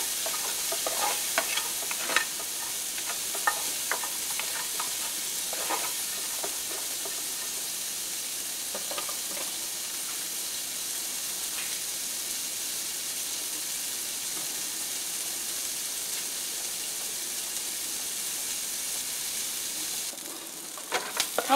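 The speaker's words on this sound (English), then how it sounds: "let us cook some, okay? For about a minute or two, just until the onions are translucent." Onions sautéing in a hot pan give a steady, soft sizzle and hiss that runs the whole time. Occasional scrapes and clicks of stirring come through at a moderate distance, with no talking.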